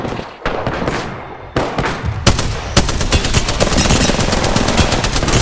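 Rapid video game gunfire, loud and close: a few separate shots, then a dense stream of fast automatic bursts that keeps going to the end, with no talking over it.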